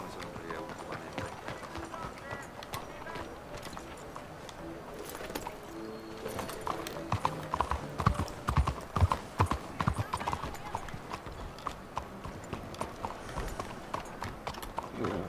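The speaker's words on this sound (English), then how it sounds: "Come on, horsey, let's go." Horse hooves clip-clop steadily in the Red Dead Redemption 2 video game, a quiet, even walking rhythm that picks up slightly midway, with a voice talking intermittently over it.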